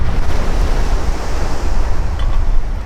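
Sea waves wash steadily along the shore at Nice, a loud, continuous rushing surf with heavy wind buffeting the microphone and no voices.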